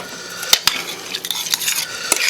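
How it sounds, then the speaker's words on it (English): Butter and garlic flakes being stirred into canned corn in a pan: a quick series of loud utensil clinks and scrapes over a soft background sizzle, close up, with no talk. "We're going to give that a good stir"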